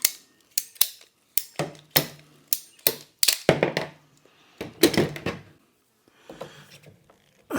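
Sharp crisp snips and clicks from cutting a piece of a Biir chicken watering system, a close series of about a dozen distinct cuts in an irregular rhythm with brief pauses, no talking.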